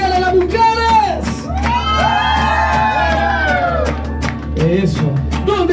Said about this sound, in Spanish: Las mujeres gritan para los mariachis.